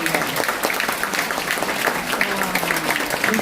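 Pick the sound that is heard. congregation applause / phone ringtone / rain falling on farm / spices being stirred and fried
congregation applause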